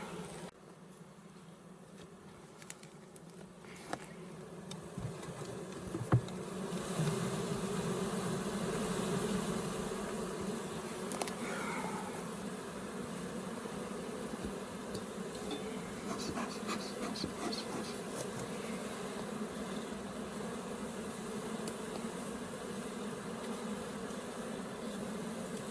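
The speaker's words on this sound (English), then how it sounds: "you pretty much got a box full of bees" A swarm of bees in a box buzzes continuously during a horizontal hive installation, a dense droning hum with occasional louder individual bees passing close, steady throughout.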